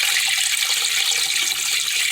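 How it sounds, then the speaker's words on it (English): Tap water pours steadily into a 10 gallon fish tank, a close, continuous hissing splash with no voices. "I'm going to go ahead and put water in it and fill it"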